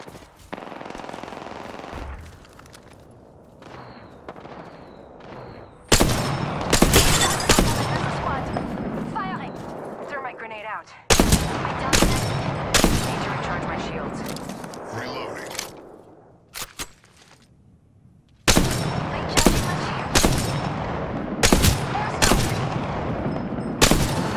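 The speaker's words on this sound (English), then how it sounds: "Getting shot at." Gunfire in the video game Apex Legends, loud bursts of automatic shots arriving in clusters with short pauses between them, while a voice talks amid the shooting.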